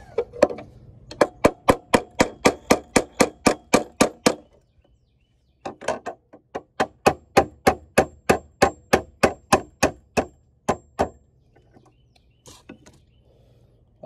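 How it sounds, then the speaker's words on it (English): A small hammer taps grommets into place on a boat ladder, a steady run of sharp metallic strikes about three per second, pausing briefly before resuming, then a few scattered final taps. "Where's my baby hammer?"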